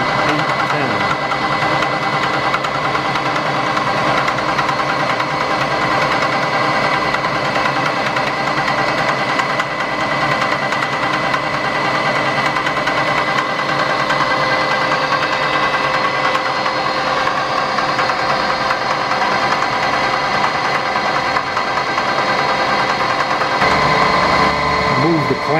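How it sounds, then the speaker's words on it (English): A big vertical milling machine in an old steam-powered machine shop cuts the back side of a rack, giving a steady, loud mechanical hum and whine with a fine rhythmic chatter that runs unbroken throughout. "Cutting the back side of the rack on a big vertical milling machine"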